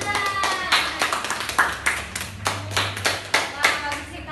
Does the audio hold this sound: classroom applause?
yes